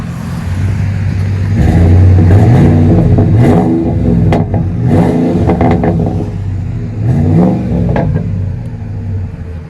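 2006 Ford F-150 with a 5.4L V8 and Flowmaster 40 dual exhaust revving in the rain: deep, loud rumbling blips that rise and fall several times, with a clattering texture.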